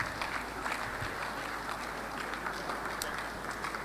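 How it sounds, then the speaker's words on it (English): An audience at a medical graduates' induction ceremony applauding the Anambra State Commissioner of Health, a faint, steady wash of distant clapping throughout. "A round of applause for Dr. Afamo Bidike, the Honorable Commissioner of Health, Anambra State in general"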